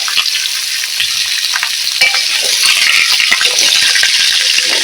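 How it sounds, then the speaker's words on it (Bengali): Potatoes frying in a pan with two dry red chillies, a cinnamon stick and a cardamom pod, stirred continuously under a loud, steady sizzle with scraping strokes, and no voices. "আলুটাকে এইভাবে নাড়াচাড়া করতে থাকবো"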